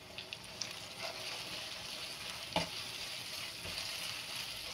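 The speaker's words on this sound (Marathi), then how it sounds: "चांगलं परतून घ्यायचं आहे आपल्याला." Cornflour paste for chilli paneer sizzles and fries steadily in a pan while being stirred, with intermittent scraping and stirring noises over the continuous hiss, no talking.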